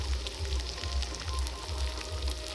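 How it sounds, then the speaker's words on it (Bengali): Chopped onion frying in a pan along with chopped ginger, giving a soft, steady sizzle with faint crackles at low volume and no talking. "তারপর পেঁয়াজটা কুচি দিয়ে দিচ্ছি।"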